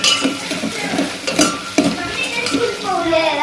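Green chillies and curry leaves, along with other tempering ingredients, sizzle and fry in hot oil for mango pulihora while a spoon stirs and scrapes the pan, giving busy, close clatter over a steady crackle.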